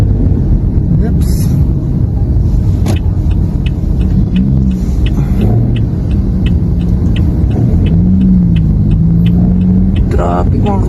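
Passing road traffic heard from inside or beside a moving vehicle: a constant loud rumble with wind buffeting, a brief horn-like tone and faint tones over the engine drone.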